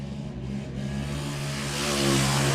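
Race car engine revving hard on the throttle during a youth main event race, a steady mid-pitched roar that swells louder toward the end, with no talk.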